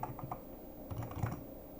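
Quiet keystrokes on a computer keyboard while code is being entered. A few scattered taps come first, then a quick cluster of clicks, soft and close.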